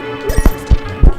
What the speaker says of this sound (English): This is the sound of book pages.